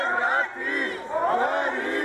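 A large street crowd of masked workers protesting a labour bill chants together, loud and continuous with rising and falling rhythmic phrases, nearby and without a single clear voice standing out.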